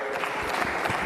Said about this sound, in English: Can we clap our hands for